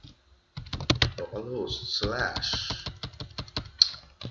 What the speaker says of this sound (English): I'll be typing in localhost